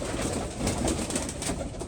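Pigeons coo softly nearby, low throaty murmurs repeating over quiet background noise.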